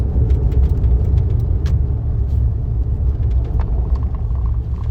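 Car engine rumbling steadily while driving and making a turn, a continuous low drone that stays loud and close throughout with no talking.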